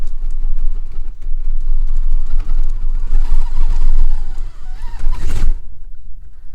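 A Furitek FX118 Katana brushless RTR RC crawler creeps slowly over canyon rocks, giving a steady, close motor whine with gritty tire and chassis scrapes that swell in the middle and cut off abruptly near the end.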